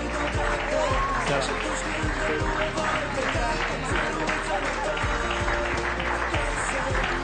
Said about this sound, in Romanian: haideți să-l primim cu aplauze pe George.